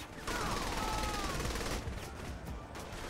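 A sustained, dense barrage of gunfire fills a firefight in Saints Row: The Third, a loud, continuous rattle of shots that stays steady for a few seconds and then eases slightly.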